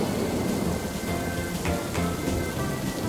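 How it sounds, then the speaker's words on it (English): Steady rain pours down with a low rumble of thunder rolling underneath, a continuous dense hiss throughout. "It's raining, and Peppa spots her rainbow umbrella."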